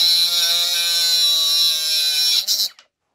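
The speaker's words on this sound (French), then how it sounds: "Voyons maintenant cette mini-meuleuse en situation avec la découpe d'une petite tige fuitée." An AEG BMMS 18SBL cordless mini grinder cuts through a small threaded rod, giving a loud, steady high-pitched whine that runs for over two seconds, then spins down and stops, followed by silence.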